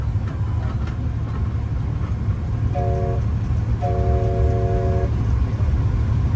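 The Superstition Scenic Railroad train at Goldfield Ghost Town rumbles steadily along on its ride, sounding two short horn toots over the continuous low rolling and clatter of the railcars.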